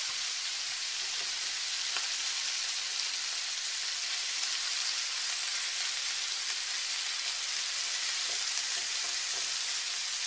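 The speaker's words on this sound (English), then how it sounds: "here I am putting the beef in. I'm only going to do about half of it." Beef browns in hot oil in a soup pot for a hearty beef barley soup, giving a continuous dense sizzle with faint scattered pops at steady, moderate loudness and no talking.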